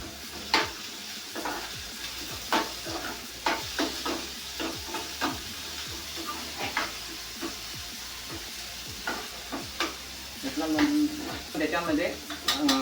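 Onion frying in a pan for a home breakfast, with a continuous sizzle broken by regular scraping strokes of a spoon against the pan, and a louder stirring burst near the end.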